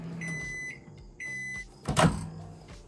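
Microwave oven running while frying potatoes: a steady hum with a thin electronic whine in two stretches, then a louder clunk and rattle near the end.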